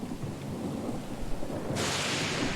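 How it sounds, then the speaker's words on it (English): Thunderstorm in the video game Pillars of Eternity 2: low rolling thunder rumbles beneath steady rain, and a louder hissing downpour surges in partway through, with no voices. "The storm's pretty loud."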